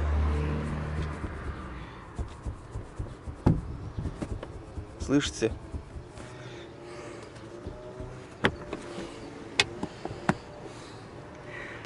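Seat lock in a Lada Vesta rattles as the headrest is moved, giving scattered light clicks and knocks at irregular moments, close by, under a voice talking.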